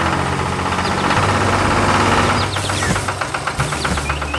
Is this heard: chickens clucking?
no